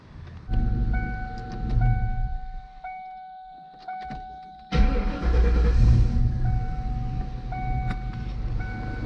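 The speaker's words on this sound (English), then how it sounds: "Go ahead and put that back together and crank her up." A 1998 Mustang GT with a newly fitted Trick Flow plenum cranks and settles into idle, a low engine rumble with a steady whine running through, a brief dip, then a louder catch that continues running near and loud.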